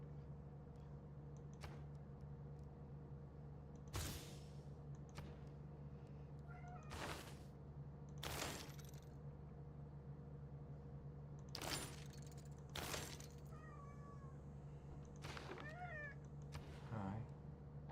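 A pet cat meows indoors, several separate moderately close calls spread out over a steady low hum, some of them rising and bending in pitch.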